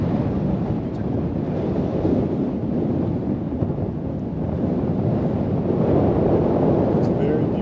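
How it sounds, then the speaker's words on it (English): Strong wind on a mountain top near Mostar, Bosnia, roars and buffets against the microphone in a continuous, loud, rumbling rush with no letup. "Very windy up here"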